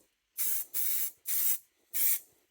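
Aerosol spray paint hisses onto jar lids in four steady bursts of about half a second each, with short pauses between them, close and alone.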